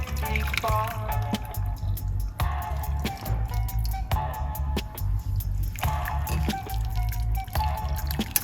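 Liquid poured through a kitchen strainer gives a continuous trickling, dripping flow close by. A few sharper splashes and clinks break into it at intervals, and no voices are heard.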